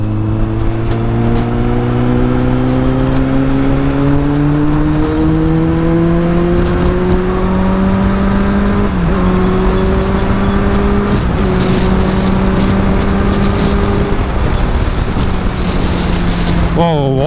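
A loud, continuous Kawasaki Z800 motorcycle exhaust roar rising steadily in pitch as the engine pulls, with wind rushing over the microphone throughout.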